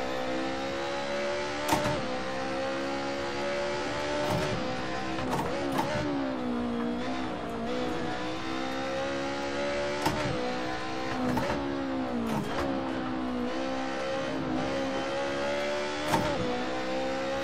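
Simulated BMW M3 E30 engine in Assetto Corsa, a continuous loud revving drone with rising and falling pitch as the car slides, punctuated by sharp gear-shift blips and occasional tire noise, no voices.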